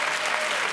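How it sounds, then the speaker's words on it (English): A television talk show studio audience claps, a brief, dense, steady burst of applause heard up close. "Keep clapping"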